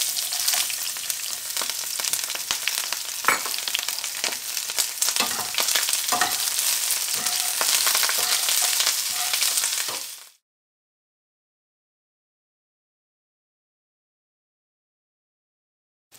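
Chopped dried chiles, garlic and onion toasting in a pan for barbacoa, a loud close crackling sizzle with stirring clatter for about ten seconds, then abrupt silence.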